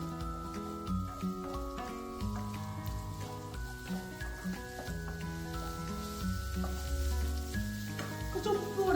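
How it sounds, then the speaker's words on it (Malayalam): Chopped onions sautéing in hot oil in a pan for chicken biryani give a continuous soft sizzle, partly masked by steady melodic background music throughout. "തീ മൂട്ടി വെച്ച് നമുക്ക് ഇതൊന്ന് വഴറ്റാം."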